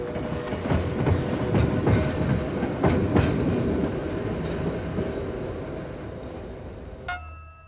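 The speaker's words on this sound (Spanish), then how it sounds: "este aerodinámico ALE 880 con remolque construido en 1938" A streamlined 1938 ALE 880 railcar with its trailer runs past close by, a steady loud rumble with rhythmic wheel clicks over rail joints that eases off near the end, followed by a brief metallic ring.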